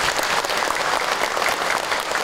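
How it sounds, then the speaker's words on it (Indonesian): A room full of people applauding at an Islamic sermon, steady dense clapping sustained throughout without pause. "Tepuk tangan dong buat kita semua."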